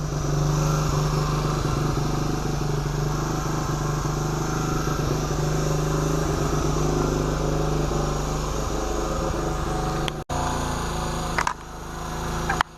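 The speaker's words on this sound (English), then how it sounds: "I messed with the idle screw a little bit on the carburetor, and that seemed to help it keep it running" A 1975 Honda CT90 motorcycle engine with a finicky carburetor idles steadily and close for about ten seconds, then stumbles and changes pitch as its running shifts briefly before settling.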